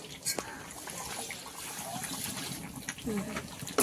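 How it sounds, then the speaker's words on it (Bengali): Water trickles and splashes as it is poured into rice in a home kitchen, a soft, steady stream heard under people talking nearby. "জল দিলাম"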